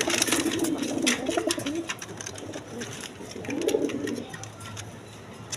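Large orange chila pigeons coo in low, throaty rolling bursts, two clear phrases close by with a pause between, over faint background noise.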